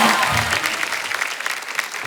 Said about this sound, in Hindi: जोरदार तालियां कृति के लिए।